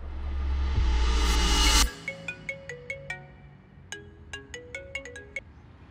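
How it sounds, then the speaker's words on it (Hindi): A phone rings for an incoming video call: a rising swell of sound gives way to a bright, repeating electronic ringtone melody of short chiming notes, clear and alone. "अब वो वीडियो कॉल करेगा।"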